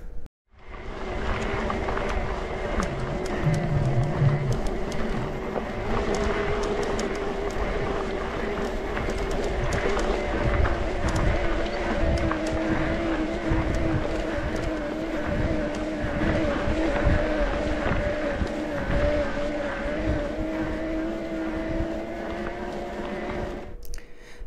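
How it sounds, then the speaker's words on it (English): A Brose Mag S electric mountain bike motor rated at 90 Nm drives a Specialized Levo. It gives a steady, sustained whir with tonal bands, continuous and fairly loud, running under outdoor trail noise for the whole stretch. "The next motor is the Bros Mag S with 90 Newton meters of power, and we are testing it on a specialized Levo bike."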